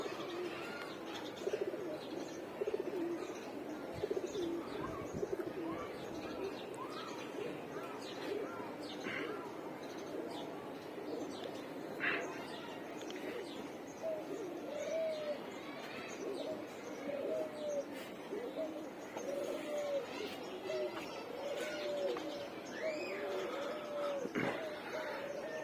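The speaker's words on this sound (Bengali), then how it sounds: "এখানে বেশিরভাগই হচ্ছে পুরাতন কবুতর" Older pigeons, mostly males, coo repeatedly in a loft: a soft, continuous run of throaty calls with scattered chirps, fairly close, while a person talks quietly at times.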